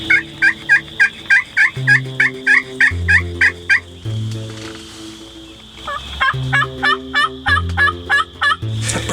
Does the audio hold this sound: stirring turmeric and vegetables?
no